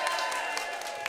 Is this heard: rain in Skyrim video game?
no